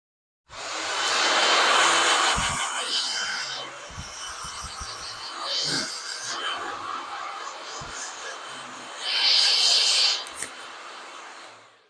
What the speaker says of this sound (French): on va juste mettre un petit coup de sèche-cheveux